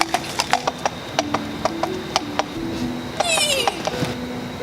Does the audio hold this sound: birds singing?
no